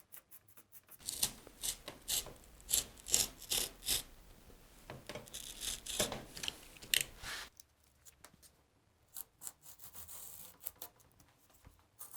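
Cardboard being cut by hand for the backrest of a homemade cardboard armchair: a rapid series of rasping, scraping strokes close by for about seven seconds, then quieter scattered scratches and rustles.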